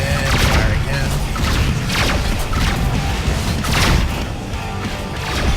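Spaceship weapons firing and a ship exploding in Rebel Galaxy, loud booming bursts and crashing impacts repeating across the clip, with a voice speaking over them.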